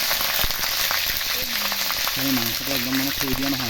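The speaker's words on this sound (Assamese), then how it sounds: "মাংসখিনি দিয়াৰ পিছত মই অলপ সময় মাংসখিনি মানে অকল তেলতে ভাজিম" Meat frying in hot mustard oil, a steady, close sizzle that runs the whole time, with a faint tonal hum underneath.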